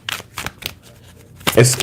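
A yes-or-no tarot card deck being shuffled, brisk riffling bursts in quick succession near the start and again at the end, with a voice talking briefly over the final burst.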